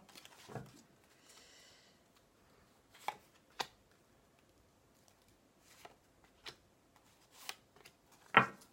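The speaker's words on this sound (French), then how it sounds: "je recouvre encore une fois ces cartes" Tarot cards handled and laid over on a table, a few soft scattered taps and slides with a brief riffle early on, faint and intimate in a quiet room, no speech.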